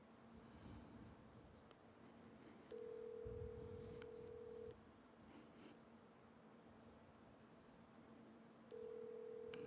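A phone call rings out with a steady electronic ringback tone in two long pulses separated by quiet line hiss, faint and with no one talking.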